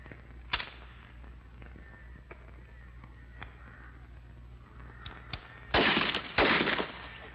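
Old-fashioned gunshots fired in a 1952 drama, a few sharp cracks scattered early on followed by two louder, closer bursts near the end, with no talk over them.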